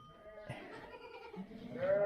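Young goats and lambs bleat together in a farm pen, several overlapping cries rising and falling over about two seconds, with one louder, higher bleat close by near the end.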